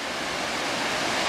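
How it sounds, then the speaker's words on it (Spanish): Powerful rushing water of the river Lena, a dense, loud, continuous roar with no breaks and no voices. "Potente, potente el río Lena."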